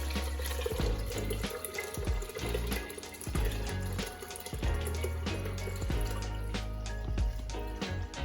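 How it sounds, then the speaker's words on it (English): Liquid for Korean sikhye rice punch pours steadily into a rice cooker, a continuous splashing gush with small clinks, close and fairly quiet. "So we're gonna carefully pour that into our rice cooker"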